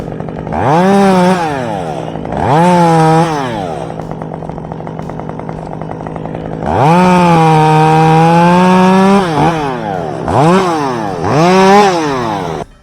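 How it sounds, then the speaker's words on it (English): A Stihl MS194T mid-range top-handle chainsaw runs loud and close. It revs up and down through repeated rising and falling engine whines, with a long sustained high rev in the middle. No one speaks. "So basically this is a mid-range stihl top handle saw."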